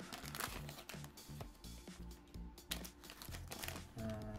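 A Pokémon Sun and Moon booster pack wrapper torn open, close crinkling and ripping of foil plastic in quick bursts, quiet and up close.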